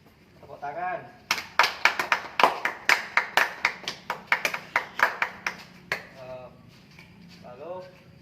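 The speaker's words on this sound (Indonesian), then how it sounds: "Tepuk tangan." A class claps hands together in a run of about fifteen sharp, fairly even claps, with brief speech before and after.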